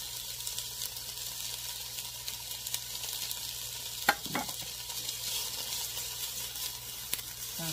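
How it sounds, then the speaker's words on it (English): Vegetables cook down in a hot pan for homemade yellow rice, a soft, even sizzle running the whole time, broken by a couple of brief utensil clinks, with no talk. "We're going to cook our veggies down"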